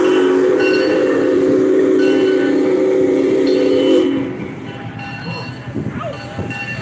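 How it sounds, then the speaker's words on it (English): A loud, sustained train whistle blares for about four seconds, then cuts off, leaving rumbling wheels and some squealing as the train passes close by at Kansas City Union Station. "Here's the whistle."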